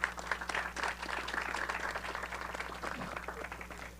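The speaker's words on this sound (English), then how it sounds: "Let's give all the individuals who came to the mic another round of applause." Audience members clap at a CSU ribbon-cutting event in a round of applause for the people who spoke at the mic. The clapping is fairly quiet and scattered, set over a low electrical hum.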